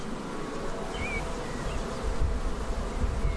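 Dense, steady buzzing of many bees in a hive close by, a continuous droning hum with no voices.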